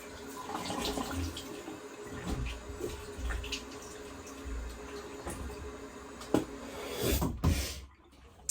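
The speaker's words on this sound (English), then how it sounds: "I'm going to do a quick rinse, so I'll be back." Running tap water used for rinsing a straight razor at a sink, a steady splashing flow with a few louder clunks and splashes near the end.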